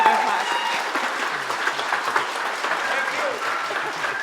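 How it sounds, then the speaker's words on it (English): Audience applause at a plant-forward culinary summit after a panel on regenerative agriculture, a steady crackle of many hands at moderate loudness, with some faint voices mixed under it. "let's give Raul and Javier and Renee a round of applause"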